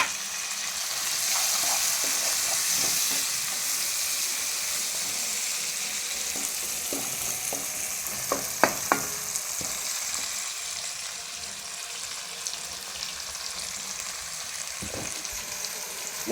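Chopped tomato pieces for an egg and drumstick curry frying in a pan, a steady close sizzle and hiss with scattered soft spatula taps and clicks, no voices.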